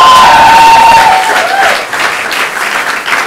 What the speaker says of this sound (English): Can we clap for these guys?